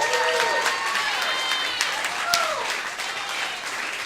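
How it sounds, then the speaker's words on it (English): Dense applause from a stand-up comedy audience, steady and fairly loud throughout, with a few whistles or cheers rising above the clapping. "Give yourselves a round of applause."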